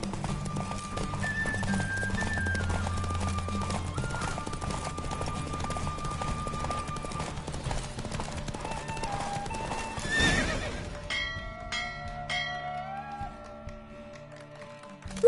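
Horse hooves clip-clopping at a gallop with whinnies and neighs in a PS4 video game, steady rhythmic hoofbeats under game music, then a brief burst of sound before the music changes.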